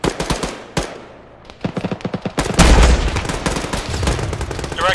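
Rapid automatic gunfire in a military video game, aimed at an enemy vehicle, comes in short loud bursts before settling into sustained, dense firing near the listener.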